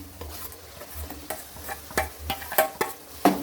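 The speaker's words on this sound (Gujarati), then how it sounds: "હવે આપણે હલાવતા રહીશું।" A spoon stirs a pea and paneer gravy in a pan, giving repeated scraping strokes with a soft frying sizzle underneath, close and fairly quiet, with no talk.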